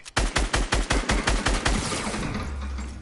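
Rapid automatic gunfire in a PS4 shooter game, a burst of about ten loud, evenly spaced shots followed by a rumbling echo that trails off.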